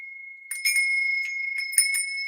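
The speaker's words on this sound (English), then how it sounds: "I'm gonna ring the bell." A small bell rings with a sustained metallic tone, struck several times in quick uneven taps that leave a steady shimmer, close and alone.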